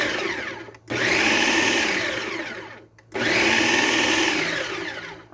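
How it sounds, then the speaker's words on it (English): A food processor pulses chickpeas for hummus in two loud bursts of whirring blade noise, each lasting about two seconds, separated by a short pause. "I'm first going to pulse this so I can break up all of my, chickpeas and everything"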